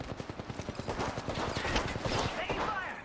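Rapid automatic gunfire in Apex Legends, a close, fast rattling burst of shots with a voice cutting in over the shooting.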